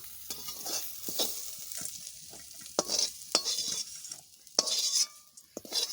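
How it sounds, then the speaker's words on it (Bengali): Soybean chunks frying in a pan, stirred with a spatula that scrapes and clicks in quick irregular strokes over a soft background sizzle, close and fairly quiet, with no talk. "সবিনটা একটু ভালো করে না ভাজলে ভালো লাগে না সবিন দেখো কিরকম ভাজা হয়ে গেছে"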